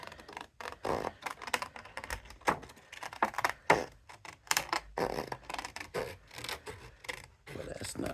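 Scissors cut a paper card along drawn lines, close up, with irregular bursts of crisp snipping and rasping paper rubs spread over several seconds and short pauses between strokes, with no talking.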